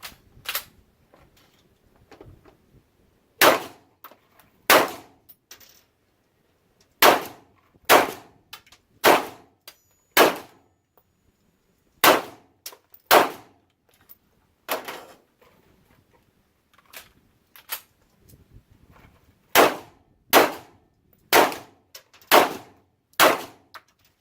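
A CZ P-09 pistol fires steel case ammo outdoors, with about twenty sharp, loud, close reports in irregular clusters separated by short quiet pauses.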